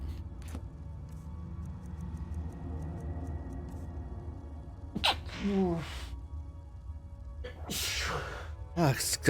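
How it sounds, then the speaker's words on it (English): A person sneezes abruptly while playing Skyrim, giving two or three loud, close bursts with breathy gasps around them over a low steady hum and faint game ticking. "I had sneeze all of a sudden"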